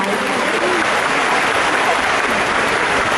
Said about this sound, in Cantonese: 亦都好多謝各位嘅掌聲啊！